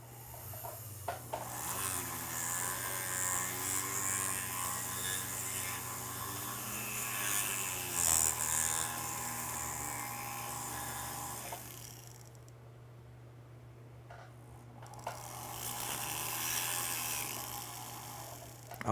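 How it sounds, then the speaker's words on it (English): A rotary sandpaper wheel sanding a ring, a steady high whirring drone that runs continuously, drops away briefly, then resumes, close and fairly loud. "And it's a sandpaper wheel."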